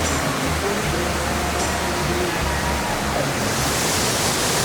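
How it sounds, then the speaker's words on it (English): Many streams pour down a cliff face into a large waterfall, a loud, constant roaring rush that fills the whole moment without pause or voices. "this is going to be an insane waterfall just from how many streams are going down over here"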